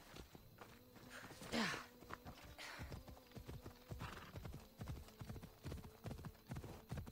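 Horse hooves clip-clop steadily in Assassin's Creed Odyssey, a rhythmic run of close, clear footfalls with a brief whinny early on and a low in-game hum beneath.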